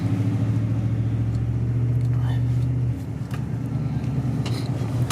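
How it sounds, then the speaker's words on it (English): Truck engine droning steadily while driving on back roads, a low hum that drops as a gear shifts partway through, with someone talking over it. "this truck is just a blast to drive"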